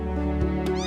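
An abandoned kitten found beneath a park bench gives a short, high, close meow over a steady droning musical background, with a brief rising squeak near the end.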